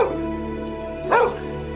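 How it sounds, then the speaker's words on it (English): A single protection dog barks once, fairly close, over a steady low hum of background noise. "the barking of one of the protection dogs that they brought along"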